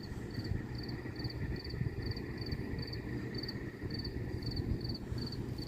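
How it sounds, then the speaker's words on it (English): Crickets chirping at night in Bay Shore, Long Island, in June, a steady, regular pulse of short high trills over a low, constant background hum, with no voices. "You could hear the crickets."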